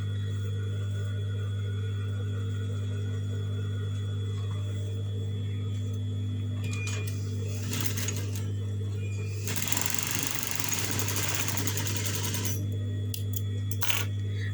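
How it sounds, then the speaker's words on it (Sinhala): A sewing machine stitches a folded-in cut fabric edge over a constant motor hum, with short bursts of rapid mechanical stitching and a longer run toward the end. "මේ ආකාරයට මේ කැපුම් පැත්ත ඇතුළට නමලා මහනවා."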